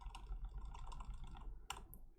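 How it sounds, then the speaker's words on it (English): Computer keyboard keys clicked in a steady burst of typing, close and fairly clear, followed by a brief pause and a couple of sharper isolated keystrokes near the end. "let me start typing"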